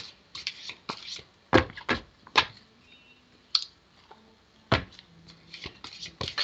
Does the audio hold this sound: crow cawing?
no